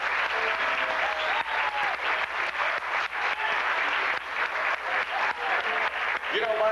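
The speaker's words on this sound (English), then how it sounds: "have a nice round of applause for this wonderful evening" An audience applauds at the close of an evening event, a sustained wash of clapping that holds at an even level, with a few voices faintly audible beneath it.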